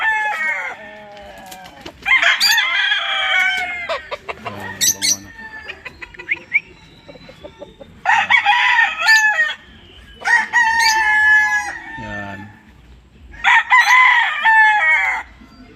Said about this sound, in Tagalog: May silang mga manok dito.